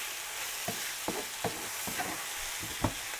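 Cut, washed chicken pieces sauté in a pan for chilli chicken, a faint, even sizzle with a handful of evenly spaced spatula taps and scrapes, no voices present.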